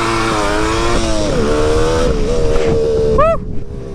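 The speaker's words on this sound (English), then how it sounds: "do just one more rolling burnout because this is the only bike I've ever ridden that can do that." Suzuki GT550 two-stroke triple motorcycle doing a rolling burnout, a loud, close, continuous buzzing engine drone with rising and falling pitch, ending in a sharp upward rev and a drop-off.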